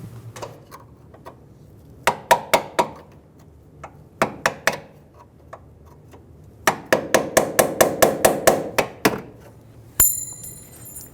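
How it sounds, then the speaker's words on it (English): Sharp metallic hammer taps on a punch ring out in quick clusters against the tabs of a front brake flex hose fitting on a 2000-2007 Ford Focus, several strikes at a time with pauses between, close and clear. "Using a hammer and a punch or flat blade screwdriver, I tapped on the 2 ends of the tabs"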